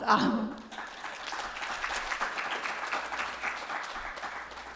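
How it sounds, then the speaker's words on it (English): Audience applause at a 2024 PMSF fundraising presentation: a brief burst of talk at the start gives way to steady, moderately loud clapping from a crowd that continues evenly to the end. "That deserves a round of applause."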